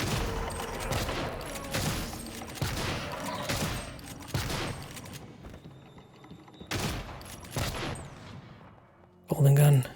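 Bursts of gunfire from the golden gun in the video game Prey, loud repeated shots clustered over several seconds, with a sharp tonal blast near the end.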